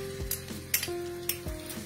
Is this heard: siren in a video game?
no